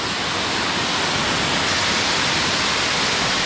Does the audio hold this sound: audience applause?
no